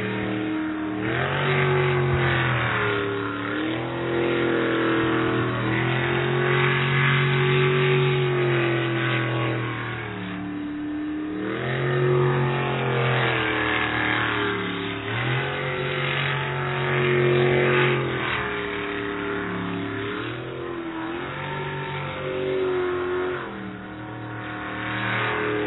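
Sprint boat racing engines roar throughout a professional race, a loud continuous high-revving drone with repeated rising and falling pitch sweeps as the boats accelerate through turns.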